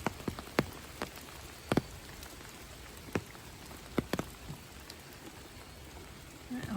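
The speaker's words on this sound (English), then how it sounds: "it's raining" Steady rain hisses softly at a campsite in Point Pelee, with scattered sharper drops tapping on a nearby surface throughout.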